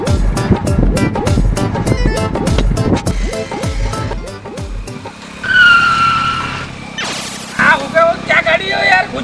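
A car drives, then its tires squeal in two sharp skids, loud and close. Voices talk over the engine noise beforehand.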